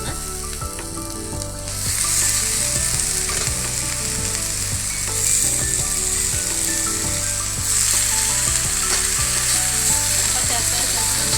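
Dried tapioca sizzling loudly in a pan with sautéed onions, a steady, dense frying hiss with occasional stirring scrapes, close and continuous with no talk.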